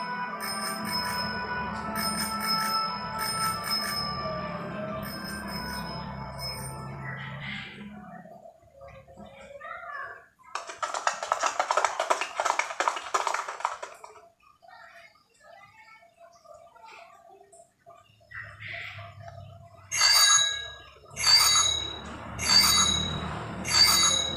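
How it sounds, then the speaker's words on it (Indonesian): Bicycle bells ring in several quick repeated bursts, mixed with gurgling and rushing sounds, fading in and out between bursts. "bel sepeda-sepeda itu mulai berdering 10 kali"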